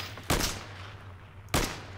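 Enemy gunfire in ARMA 3 Iron Front, a World War II setting: two sharp, loud gunshots about a second apart, each followed by a short decaying echo over a low steady background hum.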